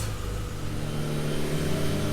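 A Mk2 car with a freshly rebuilt 1.8T engine runs on low boost with the N75 valve disconnected, so it is held to wastegate pressure. Its steady mid-pitched engine note is heard up close, building mildly under light acceleration.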